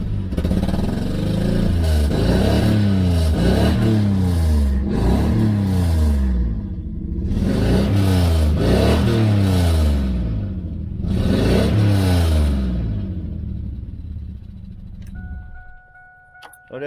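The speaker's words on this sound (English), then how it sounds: "I took off the catalytic converter. I thought it was stopped up, so it's loud there too" A 1999 Camaro or 2000 Firebird with its catalytic converter removed and a poorly welded exhaust revs repeatedly, loud rising and falling engine roars in bursts close by, then settling to a rough idle.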